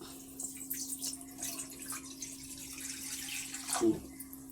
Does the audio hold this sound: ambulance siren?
no